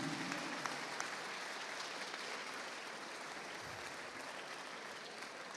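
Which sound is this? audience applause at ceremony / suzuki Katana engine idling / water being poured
audience applause at ceremony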